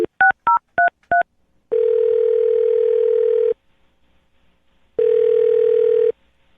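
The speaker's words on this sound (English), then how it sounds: "I'm going to dial her phone number right now" A telephone number dialed as a quick run of five touch-tone beeps, followed by two long, steady ringback tones separated by silence, loud and close with no talking.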